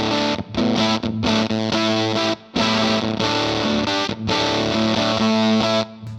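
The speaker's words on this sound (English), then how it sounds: "It's that typical British preamp distortion of plugging straight into the mixing desk." An electric guitar plays through a JHS Crayon British-voiced preamp fuzz and distortion pedal, giving thick, saturated chords with short breaks between them, loud and up front.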